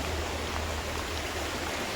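Swollen monsoon river water rushes where two rivers meet in rural Konkan, a soft, steady broadband roar heard alone.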